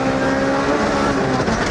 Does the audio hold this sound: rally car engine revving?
yes